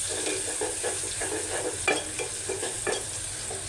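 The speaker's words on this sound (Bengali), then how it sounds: "আর এখানে হচ্ছে আমি ডাল চচ্চড়িটা একটু বাগার দিয়ে দিচ্ছি" Spices tempered in hot oil for Bengali dal chorchori sizzle steadily, with soft stirring scrapes and a few sharper clinks of a spoon against the pan.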